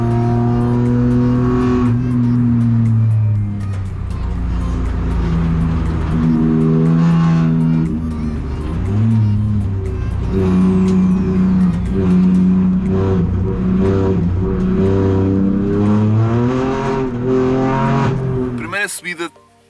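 A Kia Picanto GT Cup race car climbs a wet hill-climb course on a practice run, its engine revving hard and falling repeatedly through gear changes and corners, loud from onboard, cutting off abruptly at the end.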